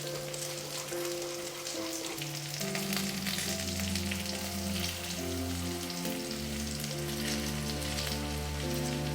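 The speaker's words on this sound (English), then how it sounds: "With ghee, it kind of gets this beautiful foamy bubble." Okra tempers in foaming ghee, a loud, steady crackling sizzle like rain on a surface, close and unbroken, with a low hum running underneath.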